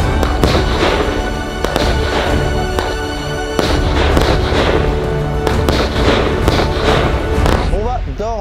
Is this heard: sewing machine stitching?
no